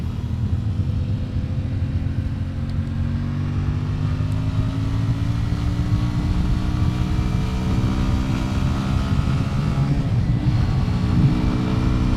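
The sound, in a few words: tractor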